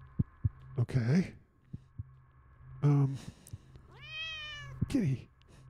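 Cat in the game The Cat Lady gives several clear, drawn-out meows with rising and falling pitch, close and distinct, separated by brief quiet gaps and soft low thumps.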